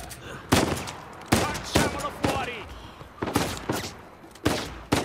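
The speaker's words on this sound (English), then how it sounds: "Just gonna shoot around you so you know I mean business" Gunfire in the video game Uncharted 4: a series of sharp, loud shots in irregular bursts, some in quick pairs, with echoing tails between them.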